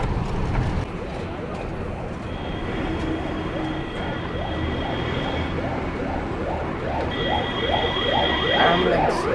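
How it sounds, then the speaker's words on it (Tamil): An ambulance siren on the road repeats rising sweeps through dense traffic rumble, close and fairly loud, with a voice talking over it. "ஸோ ஆம்புலன்ஸ்க்கு வழி விட்டாச்சு,"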